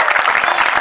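Crowd applause at an open-air carnival with a parade float, dense rapid clapping close and loud in a short burst.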